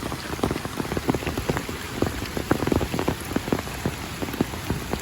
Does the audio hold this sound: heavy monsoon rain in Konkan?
yes